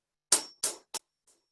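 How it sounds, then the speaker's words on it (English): Drum double strokes played close up: four evenly spaced, crisp hits, with the last one noticeably fainter. "double stroke, meaning 2 notes per hand"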